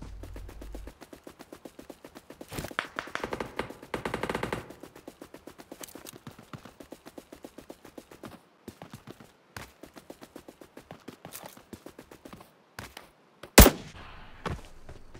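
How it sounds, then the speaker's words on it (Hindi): Rapid automatic gunfire from the mobile shooter game PUBG Mobile rattles in long repeated bursts of sharp shots, with a few louder single blasts near the end, fairly faint overall. "ये अभी मैं बॉट फायर करके अपने एनिमी को लोअर करने की कोशिश कर रहा हूँ कि वो बाहर आए"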